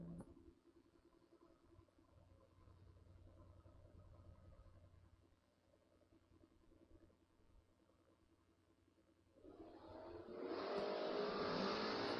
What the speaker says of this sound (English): That Mustang from Piney River, Virginia, 724. And David Meter, 620 on his window in the 77 Camaro from Mechanicsville